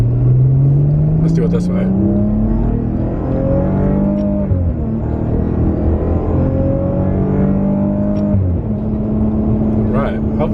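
A Maserati Ghibli engine revs up and holds steady, rising and falling in pitch twice, loud and close, with a brief spoken remark near the start.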